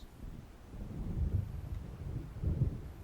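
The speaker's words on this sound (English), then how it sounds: "It seems there's a storm coming." Low, rolling thunder from an approaching storm over open water in the Alan Wake video game, two swelling rumbles building and fading across the clip with a steady windy background and no voices.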